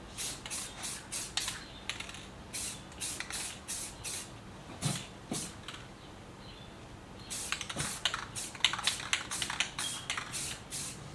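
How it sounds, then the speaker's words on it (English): An aerosol spray paint can lightly mists a car headlight in quick repeated bursts, short sharp hisses in an irregular stuttering rhythm with brief pauses, fairly faint and close. "You almost like want to mist the part instead of just painting it directly."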